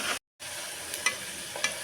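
Green chillies, onions and fenugreek leaves frying in a pan are stirred, giving a close, steady sizzle broken by a brief gap and a couple of light scraping clinks, with no talking.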